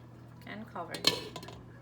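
A metal lid clanks onto a pot of simmering Jamaican pumpkin soup with a short clatter of cookware, close by and brief, over a faint background hum.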